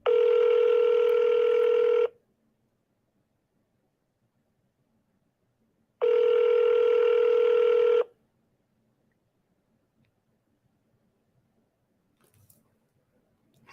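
Ringback tone on an outgoing phone call to a seller: two long steady two-second rings separated by a four-second gap, then near silence with faint handling noise at the end.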